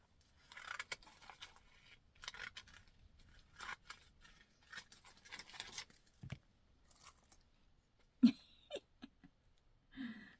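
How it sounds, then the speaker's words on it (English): Scissors snip through a piece of material in a quiet room, giving a series of short, crisp cuts with soft rustling between them and a few louder closing snips near the end. "So I'll cut that piece off."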